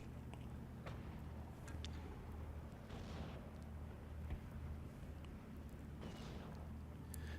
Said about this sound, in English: And I have my mortar fire on its position again